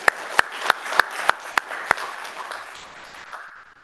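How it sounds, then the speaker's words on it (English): A few people in a church congregation at a Sunday worship service clap in a sparse, slow rhythm, about seven distinct claps that thin out and fade into room tone. "Let's give her a round of applause."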